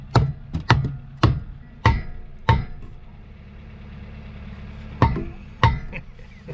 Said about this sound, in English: That piece of wood is a chisel now, and this is the hammer.